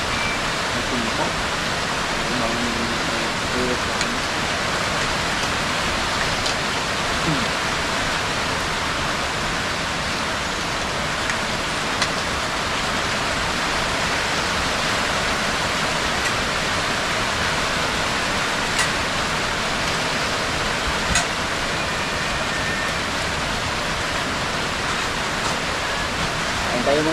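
Heavy rain falls in the provinces as a dense, loud, unbroken hiss that holds steady throughout, with no pauses or distinct drops standing out.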